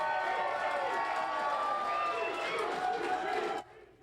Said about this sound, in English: Lots of his supporters cheering on Sala last night as those results came in